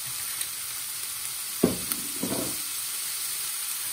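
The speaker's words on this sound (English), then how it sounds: "Next up, we're going to add some extra virgin olive oil." Extra virgin olive oil meets a hot pan of ham, starting as quiet background hiss, then erupting in two short sizzling bursts with a faint clink between them.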